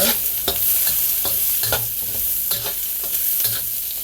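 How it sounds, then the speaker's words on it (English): Vegetables stir-frying in a hot wok, a steady loud sizzle broken by repeated scraping and tossing strokes at an irregular rhythm, close up with no talking. "I'm gonna just get my wok nice and hot and I'm gonna start on my veggies"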